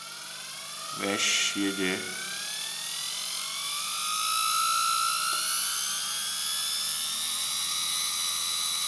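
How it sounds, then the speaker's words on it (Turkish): Brushed DC motor spinning up on a workbench, a high whine that rises in pitch and holds steady, with a short burst of speech near the start. "Dönmeye başladı. Bu fırçalı doğru akım motoru."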